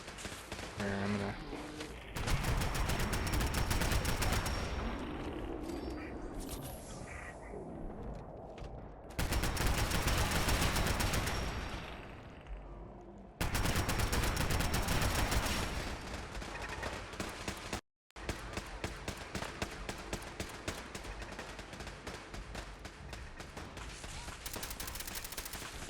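Rapid bursts of automatic turret gunfire in Fallout 4, loud and continuous in long volleys separated by brief pauses, dense and close with no talk over it.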